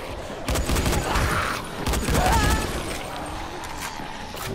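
Gunfire in the zombie video game Dying Light comes as repeated bursts of shots amid muffled in-game clatter, at moderate loudness.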